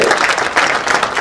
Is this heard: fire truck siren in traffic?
no